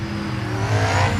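A Pontiac Fiero's engine revs up loudly nearby, a steady low rumble that swells and holds through the brief moment with no talking.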